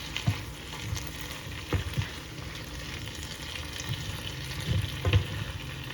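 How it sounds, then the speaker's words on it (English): Garlic kale sautés on high heat in a pan, a continuous close sizzle and crackle with occasional stirring knocks, no voices. "And all I want to do is a quick saute. So I want it up high."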